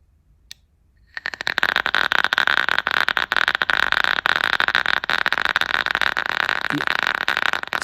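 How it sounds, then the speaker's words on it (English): Vape coil fired at 0.4 ohm and 3.8 volts in a rebuildable atomizer, giving a steady, loud, close sizzling crackle that starts abruptly after a brief quiet and holds continuously. "Solid crackle."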